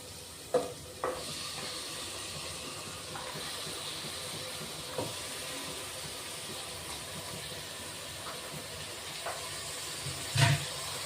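Mutton pieces stirred into a pan of masala cooked with onions, tomatoes and whole spices, giving a steady, fairly quiet broadband sizzle with a few scattered clinks and scrapes and one sharper knock near the end.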